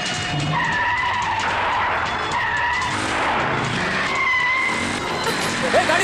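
A car in a chase skids with long screeching tire squeals over a roaring engine, loud and continuous. Repeated squeals rise and fall over several seconds.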